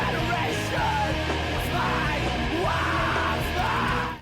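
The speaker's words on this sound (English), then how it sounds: "This is very controlled screaming." Controlled screamo vocal screaming from a song, sustained harsh yelled phrases over dense, loud distorted instrumentation throughout.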